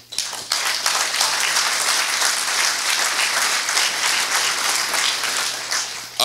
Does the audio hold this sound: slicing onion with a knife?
no